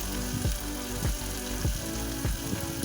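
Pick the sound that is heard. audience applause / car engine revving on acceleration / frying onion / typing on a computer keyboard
frying onion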